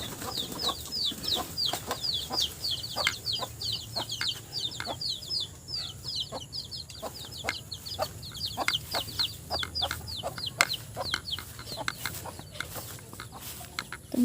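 Village chickens clucking and chattering repeatedly while pecking at feed scattered on steps in the morning, a busy nearby flock with steady rhythmic calls.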